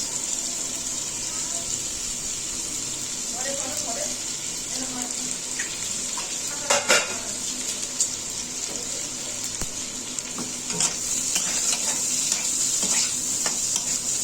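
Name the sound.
onion frying in a pan for aloo paratha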